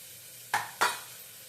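Red chili and spices frying for sambar, with coriander and amchur in the pan. A soft background sizzle is broken by two short, sharp scraping stirs about a third of a second apart, close by.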